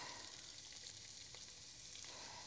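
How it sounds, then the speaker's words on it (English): Onions sizzling and frying in oil in a pan while cooking a steak and mushroom pie filling, a steady close, broadband hiss with faint stirring, no talking. "to this, we're going to add our onions."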